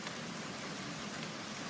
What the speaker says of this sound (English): the rain is picking up again